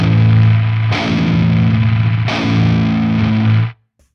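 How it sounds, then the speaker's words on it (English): Electric guitar with noisy single-coil pickups played through heavy distortion, two sustained chords with a hissy fizz over them that cut off abruptly into silence near the end. "how to clean up some seriously noisy single coil pickups in a mix"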